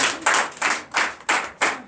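A church congregation at a Sunday service claps in unison, about five sharp, evenly spaced bursts within two seconds, close and fairly loud with no voices.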